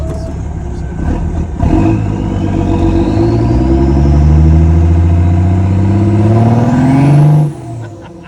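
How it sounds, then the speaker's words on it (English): A first-generation Cummins diesel truck with an exhaust stack, its engine revving up loud and close as the turbo spools, with a high rising whistle climbing over the engine roar before it drops off abruptly near the end. "Oh, that's the turbo. That's what it is."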